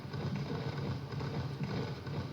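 Steady video game horse hoofbeats clip-clop in a continuous rhythm over a dense background hum, moderately loud and fairly close.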